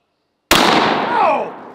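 A 10 gauge coach gun fires a single shot at a jar of relish, a sudden loud close blast at mid-clip that rings out with a long decaying tail.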